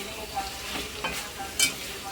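Vegetable stalks sauté with spices and melted tomatoes in a pan, giving a soft, continuous sizzle with a few light scrapes and clinks of a stirring spoon, close and fairly quiet.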